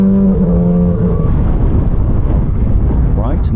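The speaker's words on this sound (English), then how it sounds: "I think this exhaust note sounds really nice." A KOVE 450 RR or VOGE RR 500 S sport motorcycle rumbles with a loud, deep exhaust note as the rider revs it, steady and close throughout.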